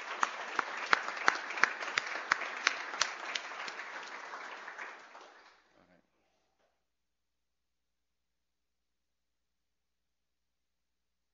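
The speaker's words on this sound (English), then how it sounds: "I think we should give them a big applause to recognize their" Applause from an audience at a university internal medicine awards ceremony, a sustained clapping wash with sharp individual claps, fading out after about five seconds into silence.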